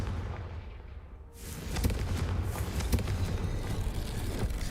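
A Confringo spell blast in Hogwarts Legacy bursts in after a short lull and settles into a loud, dense crackling rumble with sharp bursts, with no talk.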